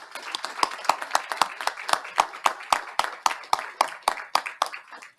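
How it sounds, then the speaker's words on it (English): A small group at a school board meeting claps for the board members, with sharp, fairly even claps in a quick steady rhythm, close and fairly loud, and no one speaking. "Would everyone please join in a round of applause for all of our board members"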